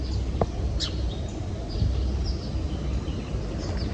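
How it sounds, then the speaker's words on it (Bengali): A few faint bird chirps and tweets rise over steady outdoor background noise on a rooftop in the morning, sparse and distant. "সকালবেলা চারিদিকটা কিন্তু পাখির কিচিরমিচির শুনতেও ভালো লাগছে"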